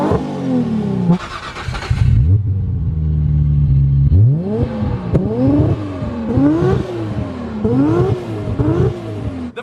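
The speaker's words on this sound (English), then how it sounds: "let's fire both of them up and see what they sound like" Engines of two Nissan Skyline R34 GT-R cars, one tuned to 1,200 hp, cranking and firing up, then a steady idle followed by a run of sharp, loud throttle blips rising and falling in quick succession, close by.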